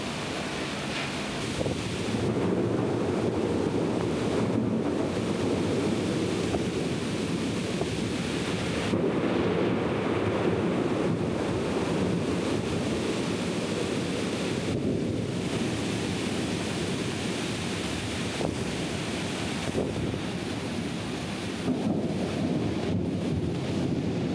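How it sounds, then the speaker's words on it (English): A steady roar of wind and heavy rain in Colombo, Sri Lanka, buffeting the microphone continuously with gusty swells and no voices. "Here comes the rain."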